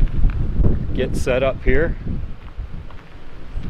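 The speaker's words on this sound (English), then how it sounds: "Yeah, it's definitely windy through here." Gusty desert wind between Laughlin, Nevada and Lone Pine, California buffets the microphone with low rumbling noise while a person speaks briefly over it.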